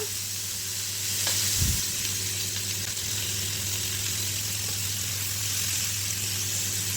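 Chicken pieces frying uncovered in a pan with Malvani masala, a steady close hiss of sizzling oil throughout, with a brief low thump early on.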